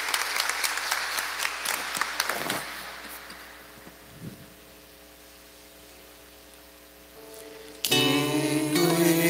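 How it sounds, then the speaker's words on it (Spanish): A church congregation at Sunday Pentecost Mass applauds a newly baptised girl, a loud, dense burst of clapping that fades over a few seconds into quiet room tone before music begins. "Le damos un fuerte aplauso."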